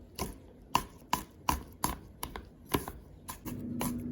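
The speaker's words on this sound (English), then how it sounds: "the 6 cloves of garlic, we'll just chop it into thin slices" Six garlic cloves are chopped into thin slices with a knife on a cutting board, giving about ten crisp, close knocks at an uneven rhythm, with no voices.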